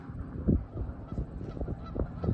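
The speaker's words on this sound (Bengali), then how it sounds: "যে পিছনে হাঁস ডাকছে, নদীর যে হাঁসগুলো দেখালাম" Waterfowl honk and call repeatedly from a river near a Ladysmith, Wisconsin riverside home, giving a series of moderately loud, irregular cries over a steady outdoor background.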